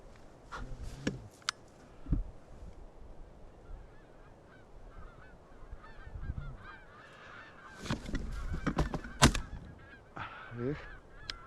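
Geese honk repeatedly in flight during a goose hunt, the calls coming in scattered bursts, some faint and distant, others louder and closer, with occasional sharp knocks and light rustling between them.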